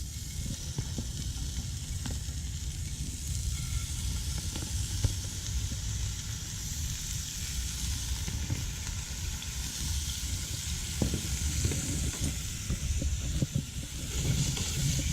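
Largemouth bass fillets fry in hot oil in a pan, giving a steady, close sizzle and hiss that runs unbroken throughout, with faint crackles and pops scattered over the sound.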